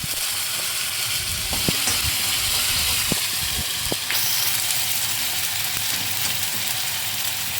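A green paste of chili, coriander, ginger and garlic hits hot oil in a pan for crab curry, giving a loud, steady hissing sizzle with a few scattered pops and clicks of stirring.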